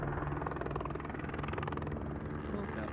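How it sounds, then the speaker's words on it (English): A helicopter drones steadily with a fast, pulsing rotor chop, loud and constant as if passing close overhead above a canyon campsite near Bryce Canyon. "This helicopter's been looking for somebody for a couple hours now."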